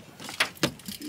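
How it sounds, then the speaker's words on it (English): Keys jangle inside a car, with two quick metallic rattles close by and a faint shuffle afterward, alone with no voices. "Jaden, your keys in here, bro."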